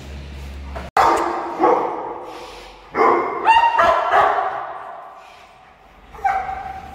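Several dogs at a small dog-breeding farm barking in loud, irregular bursts, close by, with some yipping and faint voices in the background.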